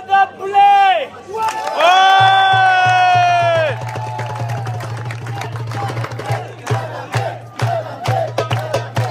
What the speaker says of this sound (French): un tonnerre d'applaudissements pour la doyenne